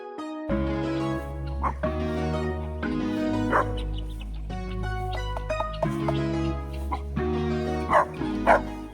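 A puppy barks and yips in repeated bursts, with whimpering between them, heard close and fairly loud throughout with no speech.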